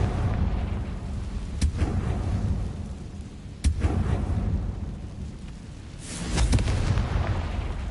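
A Confringo spell blast in Hogwarts Legacy: loud rumbling booms with sharp cracks, one strong hit early, another near the middle, and a heavier burst toward the end over continuous low roar, no talking.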